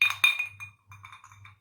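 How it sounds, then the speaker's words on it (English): An ice sphere in a rocks glass gives a few bright, close clinks, the first two the loudest, followed by softer, quicker taps against the glass in a quiet room. "I'm going to do it on an ice sphere in a rocks glass."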